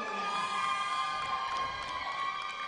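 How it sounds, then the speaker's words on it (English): A crowd cheers and shouts for the Inner West Roller Derby team at a roller derby game, a steady, bright wash of voices held for a few seconds. "That cheer is for the Inner West Roller Derby."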